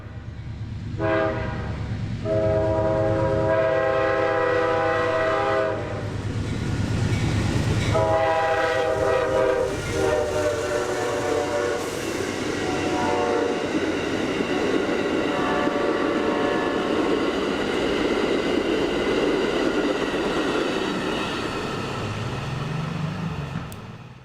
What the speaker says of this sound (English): Amtrak 98, the northbound Silver Meteor up from Miami, notching up after rounding the curve onto the A-line